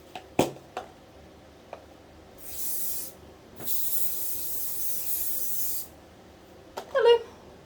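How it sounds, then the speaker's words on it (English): Two long hissing bursts of hairspray sprayed onto hair, close by, framed by scattered clicks and handling knocks, with no talking. "And a bit of hairspray."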